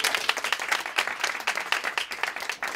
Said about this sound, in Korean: 큰 박수로 한번 격려해 주시고